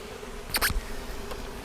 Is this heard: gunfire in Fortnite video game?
no